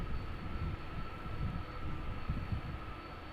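Delta Airbus A330 jet engines at Amsterdam Schiphol rumble and whine steadily at a distance, a continuous low roar with a thin high tone held throughout.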